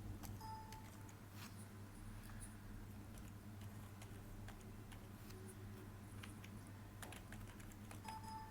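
Computer keyboard typing while entering student names into an Excel employee salary sheet, a steady stream of faint, close key clicks over a low constant hum, with no talking.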